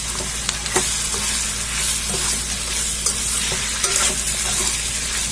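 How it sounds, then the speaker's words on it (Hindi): Roughly chopped tomatoes sizzling in a pan while being stirred for restaurant-style malai kofta, a loud continuous fry with scattered spoon clicks and scrapes, no talking. "अब इसमें मैं टमाटर डालूंगी। इसे भी मैंने रफली चॉप काट के रख लिया था, इसे भी मिला दूंगी।"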